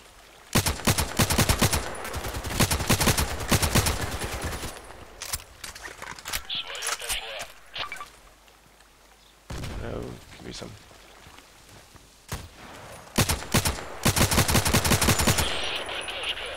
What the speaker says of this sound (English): Still have this recoil feeling, this inaccurate shaking of the gun.